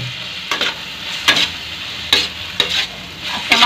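Tomatoes cooking down in a pan for a desi tomato pasta sauce, salted, with a steady sizzle broken by several bright scraping stirs of a spoon, close and alone.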